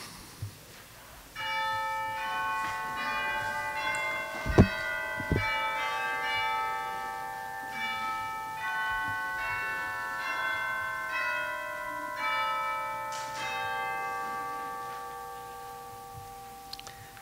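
Church chimes ring out at the start of a Sunday service, a steady sequence of sustained, overlapping bell tones filling the room with a long reverberant decay, with a couple of sharp knocks partway through.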